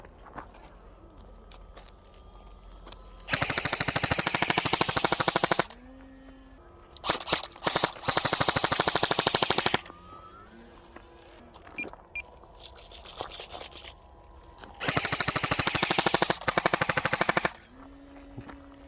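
Airsoft gun firing at a 3D printed RC car, several long rapid full-auto bursts with pauses between them and whining motor sounds in the gaps, no talk.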